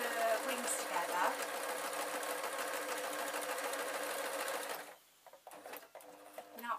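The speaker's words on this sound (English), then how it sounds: "Now, quite simply, I'm going to sew the wings together." A sewing machine stitches the wings of a raven stuffed toy with dark brown thread, a loud steady mechanical whirr that stops abruptly near the end, leaving quieter clicks and handling noise.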